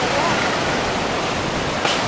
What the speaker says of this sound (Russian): в апреле месяце море бушует вот так